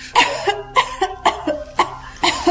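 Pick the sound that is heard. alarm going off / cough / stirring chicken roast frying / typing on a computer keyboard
cough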